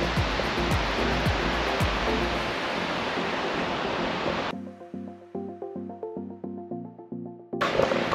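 Broad roaring surf on a huge beach in New Zealand, a dense wash of breaking waves for about four seconds before abruptly cutting to a quieter stretch with faint tonal sounds, then the surf returning briefly.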